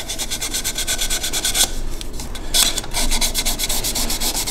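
A sapele wood sauce boat with a spout is sanded by hand for final finishing, with fast, rhythmic rasping strokes repeating closely and loudly, with no talk.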